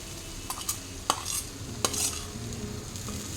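A spoon stirs sweet puran filling into a mixture in a pan, giving a soft scraping and sizzling texture with a few sharp clinks against the pan.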